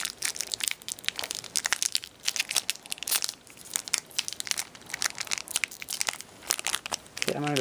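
Crinkly plastic wrapper of a Harry Potter trading card pack being crushed and torn open by hand in repeated sharp bursts, loud and close, with a short voice near the end.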